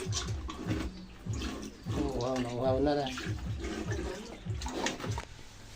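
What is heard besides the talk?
water being poured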